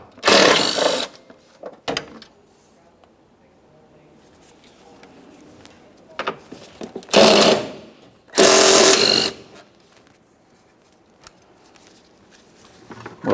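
Short whirring bursts of a power tool or driver removing a 10mm mounting bolt from a windshield washer reservoir tank on a 2007-2013 Acura MDX, several separate bursts with quiet pauses between.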